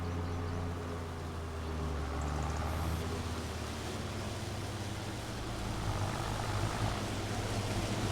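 A Farming Simulator 25 tractor, model 7250, runs with a steady, close engine drone that holds for the whole stretch, with no one talking.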